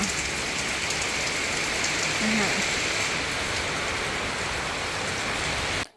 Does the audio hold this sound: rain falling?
yes